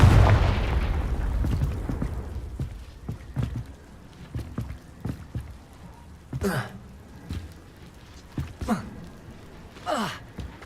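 Confringo fire spell blasts in Hogwarts Legacy combat on hard mode, a series of sharp bursts and booms spaced a second or two apart, one heavy rumble opening the sequence, with brighter crackling hits near the end.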